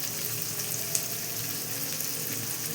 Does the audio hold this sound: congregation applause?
no